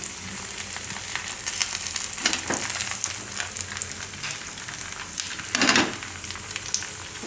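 Rice and flour pudla batter fries in oil in a pan, a steady, quiet sizzle with crackling and a few louder bursts of spitting and scraping, with no voices.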